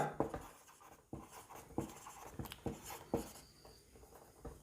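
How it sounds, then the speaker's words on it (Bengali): Hand writing on paper during a physics class, with close, distinct pen strokes and taps in a steady run of short bursts, each stroke scratching briefly and then pausing before the next, heard alone without talk. "তাহলে এবার লাস্ট ওই লাইনটা লিখব"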